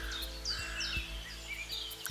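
A morning dawn chorus of birds: faint, scattered chirps and short whistled calls sit over a steady low hum, with no talking.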